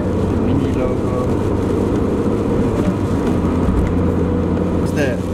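A MINI Cooper's 1.6-litre naturally aspirated engine idles with a steady, low rumble that holds throughout, joined by faint bits of voice in the background.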